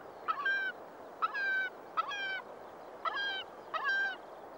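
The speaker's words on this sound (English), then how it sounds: "A black-backed gull." A black-backed gull calls five times in a row, each a short harsh honking cry with a brief gap between, fairly close and clear over a faint outdoor background.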